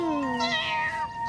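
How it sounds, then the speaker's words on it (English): A single clear cat meow, close and fairly loud, sliding down in pitch and trailing off. "Like a cat's meow."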